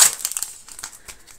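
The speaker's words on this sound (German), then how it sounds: "Es muss sofort ausgepackt werden." A nail art package being unwrapped, its plastic wrapping crinkling in a quick run of close, crisp rustles that fade off into softer crackles.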